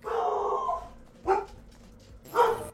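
A dog barks and yips in three short bursts, a longer whine-like bark, then two sharp barks after pauses, fairly close and alone.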